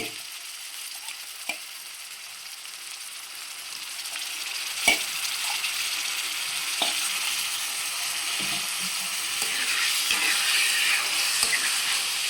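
Liver pieces fry in a pan with browned onion slices for a liver curry, giving a steady, close sizzle broken by a few soft clinks of stirring, with no voices.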